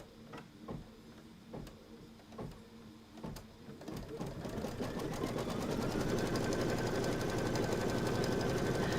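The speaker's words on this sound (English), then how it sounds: "this is your 1/4 inch seam allowance that it's going to stitch." A sewing machine stitching a 1/4 inch seam starts with a few slow separate clicks, then speeds into a continuous rapid mechanical whirr that stays steady and close to the end.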